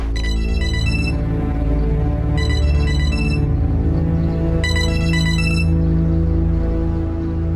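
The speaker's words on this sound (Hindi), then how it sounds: "फोन उठाओ जल्दी।" A phone ringtone repeats in three bursts of bright electronic tones over a steady background score, loud and close.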